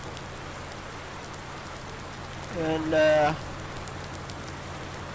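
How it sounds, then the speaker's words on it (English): Steady rain patters outside a log cabin in Farming Simulator 19, a constant hiss through the whole stretch while someone briefly speaks over it. "You can hear it, it's raining outside."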